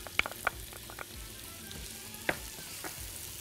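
Onion sizzling in a spoonful of ghee as the base for an Egyptian okra and meat stew, a faint steady frying hiss broken by a few soft crackles and pops.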